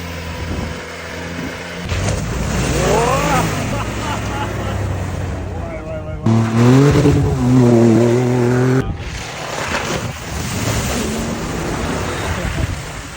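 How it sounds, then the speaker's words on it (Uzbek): A Chevrolet Trailblazer engine revs hard in rising, falling bursts while pulling a stuck car free off-road in Piskent, loud and close, with people talking and shouting over it. "Bitta Trailblazer motori hal qilyapti-da"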